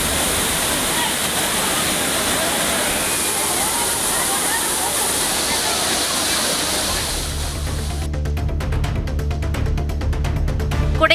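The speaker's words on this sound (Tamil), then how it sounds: "மழை பெய்து வருவதால் அருவியில் தண்ணீர் ஆர்ப்பரித்து கொட்டி வருகிறது" A waterfall in the Kanyakumari hills gushes hard after rain, a loud continuous roar of pouring water close by, with a rougher, pulsing layer of sound joining in over the last few seconds.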